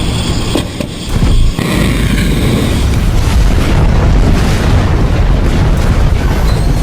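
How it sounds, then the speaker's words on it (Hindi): Loud booming missile explosions over Tel Aviv, a sharp burst early on, followed by a sustained roaring rumble that fills the rest, no talking. "तेल अवीव का आसमान भी मिसाइलों के धमाके से गूंजने लगा।"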